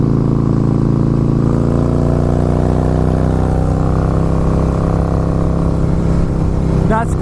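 A Harley-Davidson Fat Boy S with progressive front and rear suspension rides through corners at over 60 mph, giving a steady, loud low engine drone mixed with constant wind rush.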